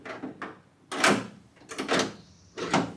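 Door handle and power door lock on a 1977 Camaro Z28 being worked: a few sharp clunks and mechanical latch thuds in quick succession, close up, with no talking.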